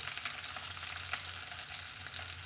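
Shallots, green chillies and curry leaves sauté in hot oil for a white pumpkin milk curry, giving a close, even sizzle and crackle with no voices.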